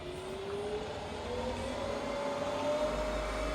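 A Bridgeport milling machine with a 42-inch table runs quietly at about 70 RPM, a soft, even motor whir with a faint steady whine and low rumble, without talking.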